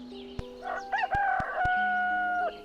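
A game bird in Gobliiins gives a crowing, rooster-like call of rising and held tones, punctuated by sharp clicks and short electronic blips.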